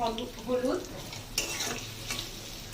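Spices with turmeric and salt frying gently over low heat while being stirred, in a papaya dal curry, with soft scraping and a faint sizzle in short bursts.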